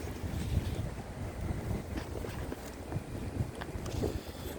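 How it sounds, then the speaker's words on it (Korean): Wind blows steadily outdoors near water, a broad continuous rush with gusty swells and buffeting against the microphone, fairly faint overall with no voices. "이렇게 바람이 시원하고 좋군요"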